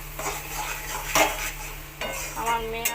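Fish mash with garam masala stirred in a pan, with a few close scraping strokes of a utensil over a soft sizzle.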